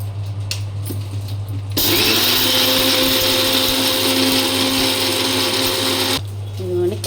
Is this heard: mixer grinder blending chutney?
yes